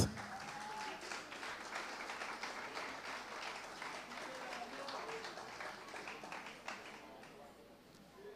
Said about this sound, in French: On vous demande d'applaudir, s'il vous plaît, les cinq finalistes.